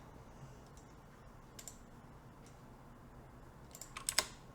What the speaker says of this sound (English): I'm typing my password, which I will hopefully blur out.